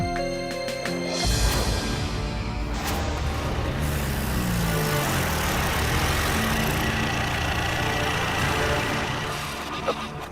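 A stopped car's engine keeps running, a steady low idle hum under a dense, layered background that starts with a sharp change about a second in and fades slightly at the end.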